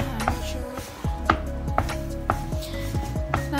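Sweet potato being mashed with tapioca flour for Taiwanese sweet potato balls, heard as a series of close, repeated thuds and scrapes against a bowl at an uneven rhythm, with no talking.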